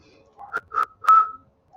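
Three short whistled notes rise in succession, the last one longest and strongest, with quiet breathy pauses between them.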